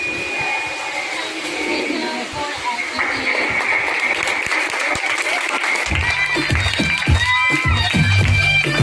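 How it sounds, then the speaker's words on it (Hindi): Loud, sustained applause from a crowd at a school Teachers Day performance at an education park, dense clapping that keeps going and swells toward the end. "जोरदार ताली हो जाए।"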